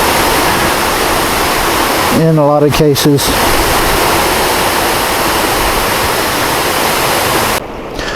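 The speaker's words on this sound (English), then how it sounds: "down in this valley, is another waterfall" A waterfall in a valley of Glacier National Park, Montana, pours out a steady broadband rush that holds for the whole stretch, with a short spoken phrase breaking in over it partway through.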